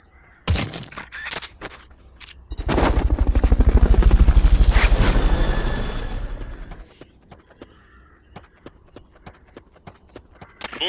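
Helicopter in the video game Metal Gear Solid: Peace Walker, a loud, rising then fading rotor thump lasting several seconds, with a rapid chopping beat and scattered game effects around it.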